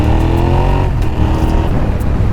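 Suzuki SV650S motorcycle engine running close and loud, a steady humming drone that shifts in pitch about a second in, with no voices.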